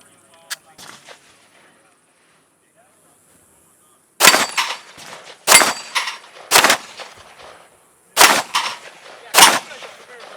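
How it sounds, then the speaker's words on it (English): Walther PDP pistol fired on an outdoor range, sharp loud gunshots in close succession, a tight string of three then a pair after a quiet stretch, with a faint earlier pop and brief voices at the start. "Shoot the other mag on that."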